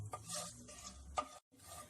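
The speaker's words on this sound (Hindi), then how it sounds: "इन्हें 30 सेकेंड के लिए हाई फ्लेम पे सौटे कर लें" Whole spices sautéing in oil over a high flame, heard as a faint, soft sizzle with quiet stirring scrapes and a brief pause near the end.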